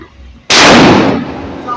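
A Diwali firecracker bomb bursts once with a sudden, very loud, close blast. The roar fades slowly over about a second.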